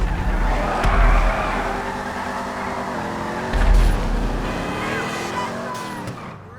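A Mustang muscle car in GTA V skids with drawn-out tire squeals and engine roar, surging twice in loud bursts, while someone talks over the driving.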